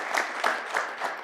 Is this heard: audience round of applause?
yes